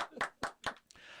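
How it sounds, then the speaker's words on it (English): One man claps his hands a few times in a quick, uneven rhythm, close and fairly soft, with nothing else sounding. "now he claps."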